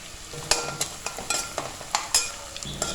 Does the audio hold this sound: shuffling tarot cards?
no